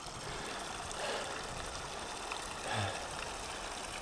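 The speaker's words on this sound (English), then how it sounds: "we still have water flowing out of the pipe there" Water flowing out of the pipe of a kilowatt microhydro turbine, a soft continuous outdoor rush and trickle heard at moderate distance, with a couple of slightly louder splashes.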